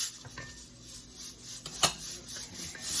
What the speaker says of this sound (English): the pressure cooker is letting you know